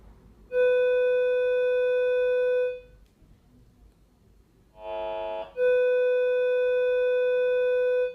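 Steady electronic beeps from an ATC-7 pulse metal detector over gold: a long even tone, a short buzzier non-ferrous burst, then another long tone, with quiet background between.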